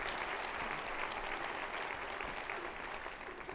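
Steady applause from a big crowd at a City Club event fills the whole stretch, dense and even, at moderate loudness with no talk over it.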